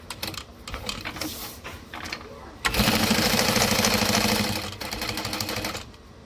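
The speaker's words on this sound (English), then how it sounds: "And keep top stitching." A sewing machine top stitching a backpack runs in a steady mechanical whir for a couple of seconds, preceded and followed by shorter stitching bursts and handling clicks up close.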